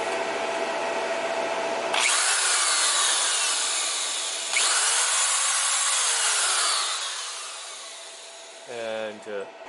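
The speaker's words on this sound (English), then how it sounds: "And now I'm trying to start the electric drill." An electric drill powered by a 12V 100Ah LiFePO4 battery under heavy load runs in two bursts with a loud whining drone that rises and fades. A voice is briefly heard at the end.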